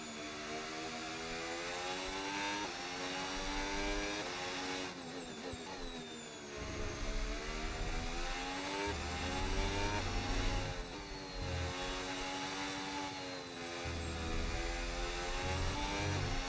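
Formula 1 car racing around the Hungary circuit in the F1 26 video game, a loud high-pitched engine whine rising and falling as it accelerates, shifts gears and brakes through corners, continuous and up close.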